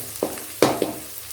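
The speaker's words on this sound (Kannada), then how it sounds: "ಇದನ್ನ ಹಾಕ್ಕೊಂಡು ಒಂದು 2 ರಿಂದ 3 ನಿಮಿಷದವರೆಗೆ ಇದನ್ನು ಎಣ್ಣೆಯಲ್ಲಿ ಫ್ರೈ ಮಾಡ್ತಾ ಬರಬೇಕು" Hyacinth beans (avarekalu) frying in oil in a pan, heard as three short, close stirring sizzles with quiet pauses between them.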